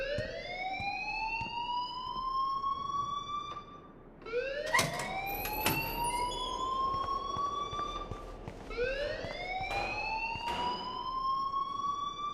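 Alarm ringing in the video game Life is Strange: three long rising siren-like wails, each sweeping up and holding before cutting off, sounding fairly loud and alone without speech.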